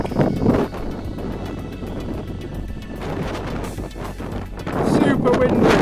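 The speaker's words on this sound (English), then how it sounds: "Super windy." Strong wind gusting across an open sandy road on the way north to Astrakhan, roaring and buffeting the microphone loudly throughout, with a voice talking under it.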